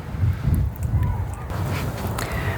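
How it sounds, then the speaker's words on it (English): Gusty wind on an outdoor allotment garden on a cloudy day buffets the microphone with a steady, loud low rumble that runs for the whole stretch, with no clear voices. "It's quite windy again as usual"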